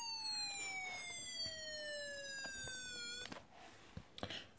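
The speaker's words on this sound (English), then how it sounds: "races to the cliff with the siren wailing" A fire engine siren wails, sliding steadily downward in pitch for a few seconds, then cuts off, followed by a couple of faint knocks, in a cartoon.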